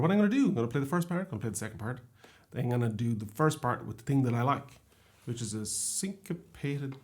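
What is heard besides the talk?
No distinct noise like a dog, phone or traffic.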